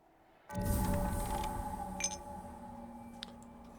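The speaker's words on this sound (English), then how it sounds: "There go the bells signaling that the day is coming to an end" A bell in the game Book of Hours rings out at the end of the day with one sudden strike and then a long, slowly fading resonance, followed by a couple of faint chime-like taps as it dies away, with no talking.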